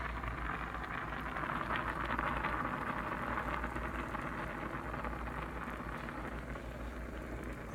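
A pot of pasta water at a rolling boil on a stove, a steady close bubbling and hissing wash at a moderate level throughout, no speech.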